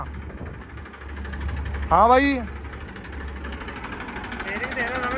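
Massey 241 tractor engine running with a steady low rumble throughout, close by, while someone briefly speaks over it.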